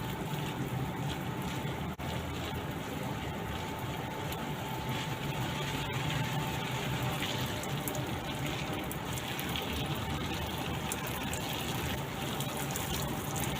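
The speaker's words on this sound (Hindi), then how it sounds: "हम इसके ऊपर पानी किस तरह फुहार से स्प्रिंकल कर रहे हैं" Steady wash of water sprinkled onto garden soil where spinach is grown, a continuous soft hiss with a faint background tone and no talking.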